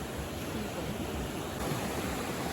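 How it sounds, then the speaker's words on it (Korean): Fierce ocean waves crash and roll continuously at a beach, a dense, steady broadband surf roar with no break over the short stretch. "파도가 진짜 살벌해"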